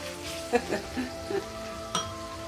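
Ginger and garlic sautéing in a home kitchen pan while making beef and shrimp rice noodles, giving a steady low sizzle with a few soft stirring bumps and scrapes, close and moderate in level.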